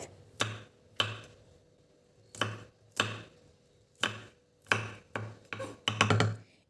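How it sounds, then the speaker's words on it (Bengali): Knife chopping garlic cloves into small pieces on a cutting board, with crisp, evenly spaced thuds that grow a little quicker toward the end, close and clear with no talking. "এখন এই রসুনগুলোকেও ছোট ছোট টুকরো করে কেটে নিতে হবে"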